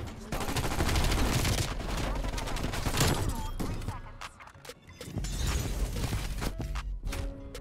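Loud, rapid automatic bursts from the Vargo 52 assault rifle in Call of Duty Cold War, with a brief dip before more sustained firing and some shattering impacts, while a voice talks over it.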